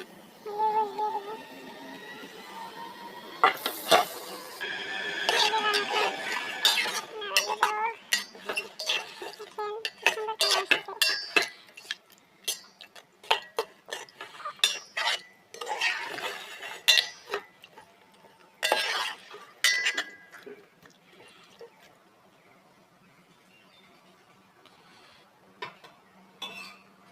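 Marinated chicken is added to a rice cooker pot with bay leaves and stirred, giving irregular close clinks, taps and scrapes of a utensil against the metal pot over a long stretch with quiet gaps.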